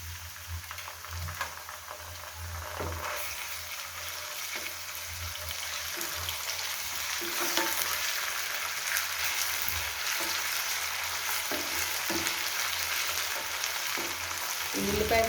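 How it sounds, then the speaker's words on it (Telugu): Onion pieces fry with ginger-garlic paste for a prawn and gongura curry, a steady close sizzle that grows louder partway through, with intermittent stirring scrapes against the pan. "ఉల్లిపాయ ముక్కలు, అల్లం వెల్లుల్లిపాయ పేస్ట్ బాగా వేగాలి."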